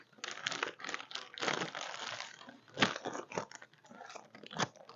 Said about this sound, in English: I'm going to put these two things into a second